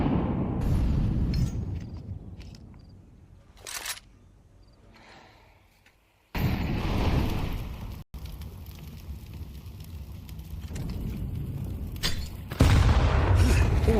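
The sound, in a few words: HE grenade explosion in the video game Counter-Strike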